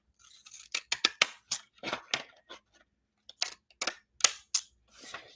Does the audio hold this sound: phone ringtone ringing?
no